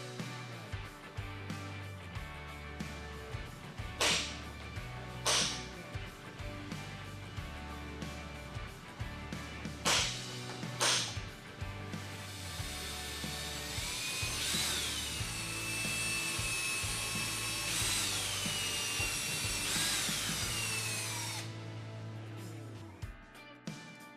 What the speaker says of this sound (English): mark and drill the screw holes